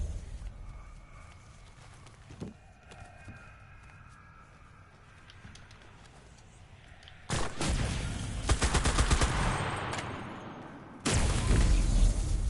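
Bursts of automatic gunfire in the battle royale shooter Cuisine Royale, quiet scattered shots at first, then two loud sustained volleys late on, close and harsh, with little talk.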